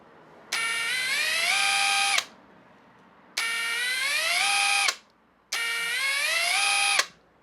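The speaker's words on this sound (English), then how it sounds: "it's a nut gun" A cheap cordless impact wrench, or nut gun, spins freely in three separate bursts of about one and a half seconds each, its high motor whine rising in pitch as it speeds up, run forward and reverse, close and loud.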